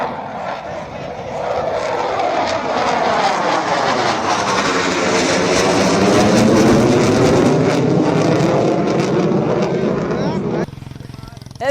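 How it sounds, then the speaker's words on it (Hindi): A Rafale fighter jet roars overhead in Indian skies, a loud, broad jet rush swelling over several seconds and then cutting off abruptly near the end. "आज भारत के आसमान में उसकी गर्जना सुनाई दी।"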